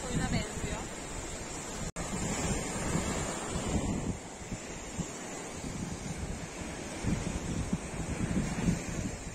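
Steady surf washing onto a Black Sea shore near Bartın, Turkey, mixed with wind buffeting the microphone, with a brief dropout early on.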